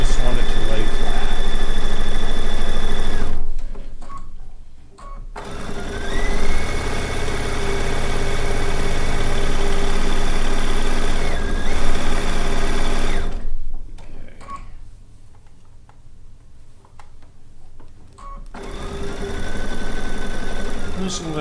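A domestic sewing machine runs steadily through fabric in long continuous bursts, passing straight over a pin, with a loud close whir that stops briefly twice before resuming.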